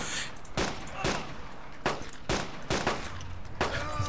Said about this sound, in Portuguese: Eu tô fechando o olho e atirando aqui